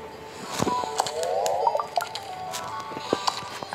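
A horse is lathered with foam at the bath stage in the video game Star Stable, giving wet squishing and dripping sounds with small bright splats and trickles, moderately loud and with no talk.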